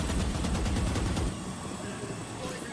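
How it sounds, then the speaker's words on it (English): Gunfire during a Valorant esports match, a dense burst of rapid shots for about a second followed by a quieter rumbling game mix. "the gun fight goes in favor of Boaster"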